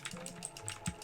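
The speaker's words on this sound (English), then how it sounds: "getting a quieter keyboard on the side so that I could not have as many blue switch sounds" Clicky blue-switch mechanical keyboard keys pressed in a quick irregular run of sharp, close taps, with one heavier thump near the end and no voices.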